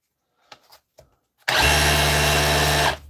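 A repaired DeWalt or Makita hammer drill starts after a few faint clicks. It runs steadily and loudly for about a second and a half with a dense mechanical whine, then stops.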